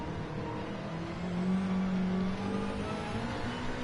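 Subaru engine in the Daytona racing game, a steady droning hum that swells slightly as it revs mid-run, then settles, continuous and moderately loud with no voices.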